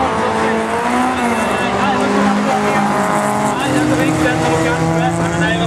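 Race cars at a motor club dirt-track heat roar continuously with shifting engine pitch and occasional tyre scrabble, loud and steady throughout, while a commentator speaks over the engines.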